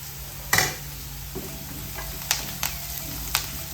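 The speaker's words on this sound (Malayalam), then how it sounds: "നമ്മൾ ആ സവാള 1 മിനിറ്റ് ഒന്ന് വഴന്നതേ ഉള്ളേ" Onion sautés at medium heat in a pan, a soft continuous sizzle punctuated by several clear scrapes and taps of a spoon against the pan; quiet and without speech.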